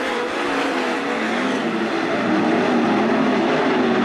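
410 sprint cars at Attica Raceway Park roar through a heat race, a loud, continuous engine drone with no break, swelling slightly louder as the field passes close.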